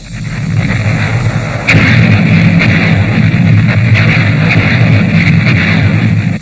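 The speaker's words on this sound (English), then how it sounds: "The biggest barrage of the New Guinea campaign blew Japanese defenses to rubble." A heavy artillery barrage from the New Guinea campaign in World War Two: dense, continuous rumbling gunfire with overlapping booms and sharp reports, loud and relentless, growing heavier after the first couple of seconds.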